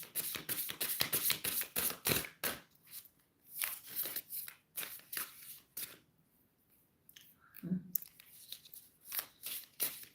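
Oshun oracle cards are shuffled in quick bursts of crisp riffling and tapping, pausing between rounds, with a soft voice briefly heard.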